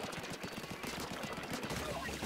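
Rapid, dense ink-weapon fire in the video game Splatoon 2, a continuous stream of quick popping shots filling the whole moment, fairly loud and close, with a voice faintly present underneath.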